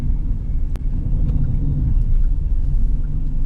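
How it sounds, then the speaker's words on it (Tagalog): Car driving in traffic on a Manila expressway heard from inside, a loud continuous low engine and road rumble with a few faint ticks and no talking. "Nagbayad ka para maipit sa traffic, kahit sa skyway."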